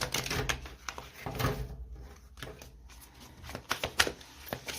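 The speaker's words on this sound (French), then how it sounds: "On va commencer par une coupe et on va prendre 6 cartes." Tarot cards being cut and dealt for a six-card reading, giving a run of crisp riffling and slapping card sounds with short pauses between bursts, close and moderately loud with no talk.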